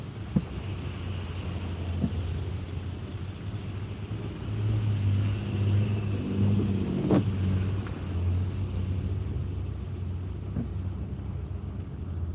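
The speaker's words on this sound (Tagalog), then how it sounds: "Traffic ng slight." Light rush-hour traffic hums and rumbles steadily, with cars passing at moderate distance, a swell in the middle and occasional light knocks, and no voices.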